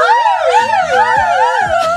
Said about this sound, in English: We need a siren.